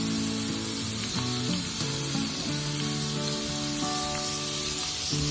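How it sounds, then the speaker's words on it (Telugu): Crispy corn frying in hot oil, the oil bubbling and sizzling loudly and steadily up close, with a continuous hiss and occasional pops. "ఇంకా కదా ఇలా బబుల్స్ లాగా వస్తుంది ఆయిల్."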